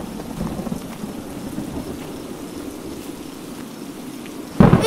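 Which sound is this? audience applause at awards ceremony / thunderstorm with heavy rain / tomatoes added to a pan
thunderstorm with heavy rain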